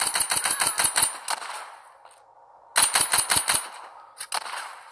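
Gunfire from The Walking Zombie 2, a zombie shooter game: two loud bursts of rapid automatic shots separated by a pause, then a few scattered single shots, with no talk.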